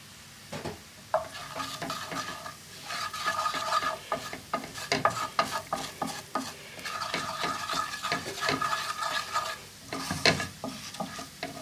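Chilli and spices fry in a hot pan with an ongoing sizzle, overlaid by repeated scraping and clattering as a utensil stirs against the pan in uneven bursts.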